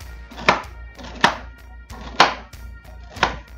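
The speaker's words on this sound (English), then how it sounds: "there was this ring every time I hit the board" Chopping board knocking and ringing against a bowl as vegetables such as celery and onion are chopped, four sharp evenly spaced strikes each with a brief metallic ring, close and alone.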